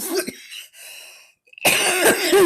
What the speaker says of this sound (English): I hate to end on a cough.